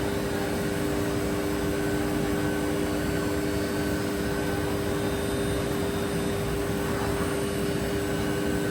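Haas VF4SS vertical CNC mill with coolant-through spindle running at 6,000 RPM, a steady whining drone with a constant tonal hum over broadband machine noise, unchanging throughout.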